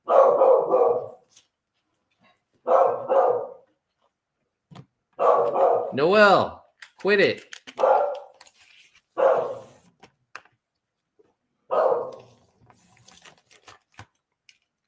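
A dog barks in sharp bursts, with pauses between, while a person speaks over and between the barks nearby.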